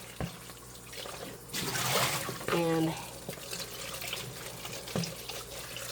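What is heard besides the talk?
rinsing a bowl under warm running tap water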